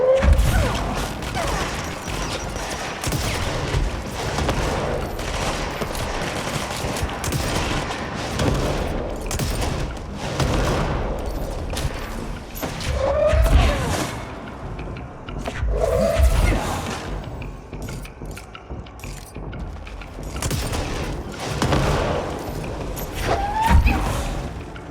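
Enemies fire guns in the video game Control, dense bursts and rapid volleys cracking repeatedly over half a minute, with booming impacts, mechanical clatter and occasional footsteps between the louder salvos.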